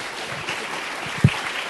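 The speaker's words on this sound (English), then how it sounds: "give a round of applause for my friend" Scattered audience applause greets a speaker at a design talk, a modest patter of clapping with one sharper close clap, fairly light and brief with no speech over it.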